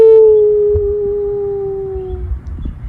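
Sam the dog lets out a long, aching howl, one loud sustained tone held steady for about two seconds and sliding slowly down before fading into quieter background noise.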